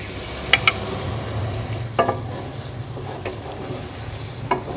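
Potatoes and spices sautéing in a karahi for an Afghani potato dish, a low steady sizzle with a few sharp spoon scrapes spaced a second or so apart, close by and without speech.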